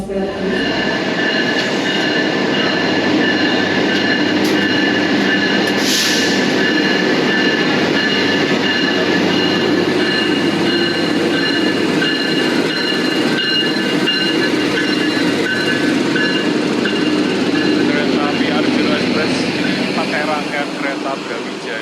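The Arjuna Express executive-class passenger train at Bangil station, a junction toward Malang and Jember, gives a loud, sustained rumble of rolling cars with metallic wheel squeal and ringing tones, while people talk throughout.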